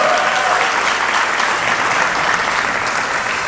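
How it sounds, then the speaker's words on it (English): Guests at a wedding reception applauding for a performing group, a dense, loud, continuous wall of clapping from a large crowd in a hall, with no talking over it. "Come on, let's make a big round of applause"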